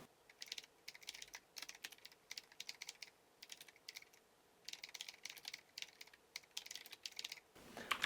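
Fingers type quickly on a computer keyboard during spreadsheet data-entry practice. Rapid clusters of close, crisp key clicks come in bursts separated by short pauses, with no talk over them.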